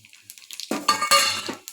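Whole spices (cumin, dried red chilli, bay leaf and whole garam masala) fry in hot oil in a kadai as a tempering for vegetarian khichdi. A close, bright sizzle swells after a soft clink and keeps crackling to the end.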